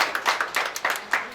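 A small audience claps at an Odia-language gathering, a short burst of separate, uneven hand claps in quick succession, fairly close and moderately loud.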